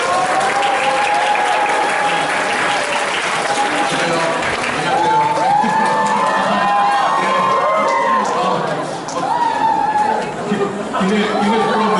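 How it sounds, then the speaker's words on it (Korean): A large conference audience of several hundred applauds to welcome a session speaker at a game developers' conference, steady dense clapping with chatter, whoops and cheering mixed in throughout. "그럼 이번 세션의 발표자 대도서관님을 큰 박수로 환영하겠습니다"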